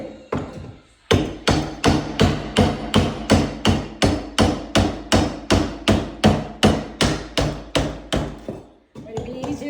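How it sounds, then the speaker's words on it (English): A hammer strikes wall paneling in a fast, even series of about two dozen loud, close blows during home demolition, stopping briefly before a few quieter knocks at the end. "I'm putting a hole in the paneling so I can get the baseboard removed"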